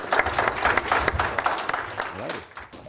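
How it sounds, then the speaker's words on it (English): Audience at a buck-pulling competition event applauding the participants, a brief burst of close, uneven claps mixed with crowd noise that tapers off after a couple of seconds. "I want to give these guys one more round of applause for participating in this year's event"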